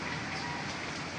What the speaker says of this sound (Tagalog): maulang umaga sa atin mga kamaster